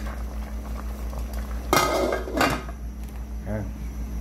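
Sinigang na bangus, a milkfish soup, bubbles at a low steady boil in a pot, broken by a couple of loud clanking stirs and scrapes of a ladle against the metal.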